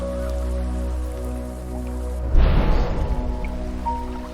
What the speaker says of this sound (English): underneath that rain cloud, there is some localized rain